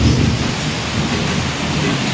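Heavy rain pours steadily during a night storm, a dense, loud roar with low thunder rumbling underneath, while water leaks into a house and drips into buckets, plates and glasses.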